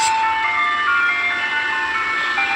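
Ice cream truck chimes play continuously through a neighborhood apartment complex, a bright repeating melody ringing clearly over faint low engine rumble, steady and fairly loud without pause.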